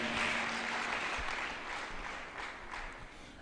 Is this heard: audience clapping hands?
yes